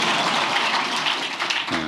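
Audience applause at a presidential meeting with public officials, a dense, steady wash of clapping at close range that runs throughout with no voices over it.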